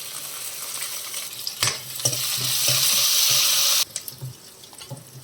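Curry leaves dropped into hot oil with onions, cumin and chillies in a pan for a potato curry, giving a loud burst of sizzling with stirring clatter before the hiss drops back to a low crackle.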